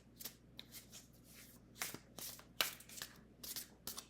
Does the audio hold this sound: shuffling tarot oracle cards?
yes